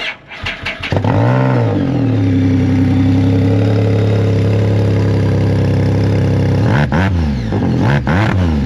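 A motorcycle fitted with an upgraded exhaust revs up loudly and close by, holds a steady high drone for several seconds, then drops and gives a few sharp throttle blips near the end.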